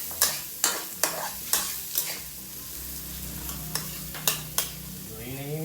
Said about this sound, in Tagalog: Papabanguhin muna natin ang bawang at sibuyas.